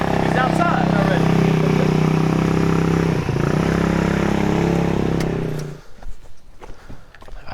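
A 150cc Ice Bear scooter engine idles steadily with a strong low harmonic drone for about six seconds, then cuts out, leaving faint clatter and light movement.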